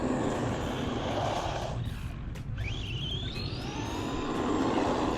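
An ARRMA Vorteks 4X2 RC car with an upgraded 4000KV brushless motor and Spektrum Firma 85A ESC makes a speed run outdoors, its motor whine rising in pitch as it accelerates away over steady background rumble.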